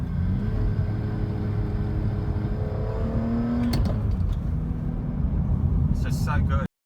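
A BMW E46 M3 with a Samsonas shifter drives along under a steady engine and road drone, the revs rising and dropping as gears change, with sharp mechanical clunks from the shifter and someone talking over it.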